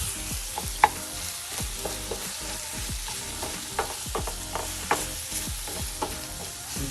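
Cajun pork sausage sizzles steadily in a skillet over medium heat while a utensil stirs and scrapes through it in repeated strokes, with a few sharper clinks against the pan.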